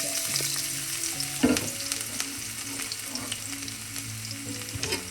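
Ginger and garlic fry in coconut oil in a kadai after mustard seeds have popped, giving a steady loud sizzle with crackling pops and a few stirring scrapes, no voices.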